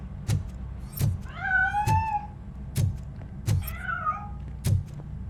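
In the video game Robocop: Rogue City, a cat gives two drawn-out, wavering meows. They sit between regular heavy thumping footsteps, clear and close against a quiet background.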